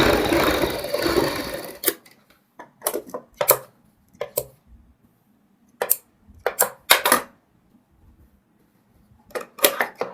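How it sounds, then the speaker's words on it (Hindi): Sewing machine stitching a girls' top along marked lines on fabric, short separate whirring bursts with pauses between them, close and fairly loud, after some brief handling noise at the start. "जो हमने दोस्तों निशान लगाए हैं उन्हीं के ऊपर हम ये सिलाई कंप्लीट करेंगे।"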